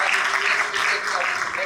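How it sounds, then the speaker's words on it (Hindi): Steady, dense applause from a seated audience fills the space, a continuous wash of many hands clapping at a business seminar. "ये जो सामने लोग बैठे हैं इनके लिए जोरदार तालियां बजा दीजिए।"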